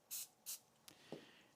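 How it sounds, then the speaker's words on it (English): Cooking spray hisses onto aluminum foil in two short, close bursts, followed by a couple of faint soft taps in a quiet kitchen. "I'm going to put the foil here, and I'm just going to spray it so we don't get it stuck."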